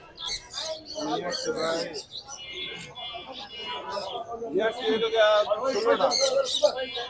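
At a busy bird market in Sylhet, high chirps and tweets from many caged birds overlap with people talking nearby. The calls come in dense, continuous bursts throughout.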